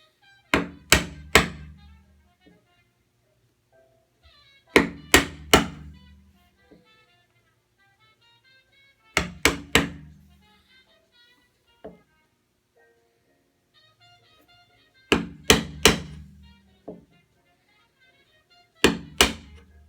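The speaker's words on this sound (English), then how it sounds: "Now that we've chopped out the waste down to the baseline" A hammer drives a chisel through dovetail waste in wood, sharp knocking blows landing in tight clusters of two or three, separated by pauses, close and crisp with no talking.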